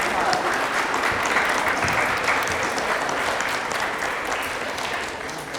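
Audience applause for student musicians at the Harper Jr High spring school concert: a dense, steady wash of clapping from a large crowd, fairly close and even, lasting throughout with a slight fade toward the end.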